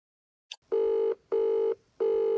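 Telephone ringing in a quiet room, a short click and then three evenly spaced electronic rings with brief gaps between them.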